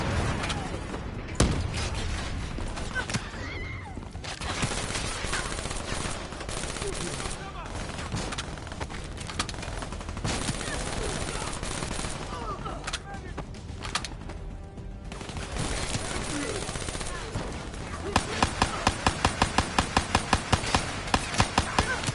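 Gunfire in Call of Duty Black Ops 3, dense rapid shots and bursts throughout over in-game music and effects, with a sharp run of regular automatic fire near the end; a voice talks intermittently.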